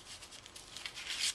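A paper ticket torn by hand while scrapbooking gives a short, crisp, papery rip of about a second and a half, fairly quiet, with a brighter burst near the end.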